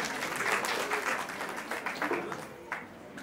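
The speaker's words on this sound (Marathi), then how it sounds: "जोरदार टाळ्या" An audience claps in a hall at an 85th birthday celebration: dense, lively applause that is close and full at first, then gradually thins and softens.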